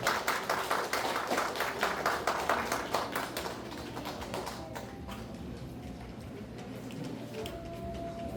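Residents at a redevelopment briefing give a second round of applause, quieter and somewhat distant, the dense clapping tapering off after a few seconds into room noise.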